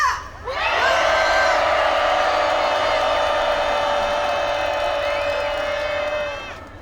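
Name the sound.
rally crowd shouting together for five seconds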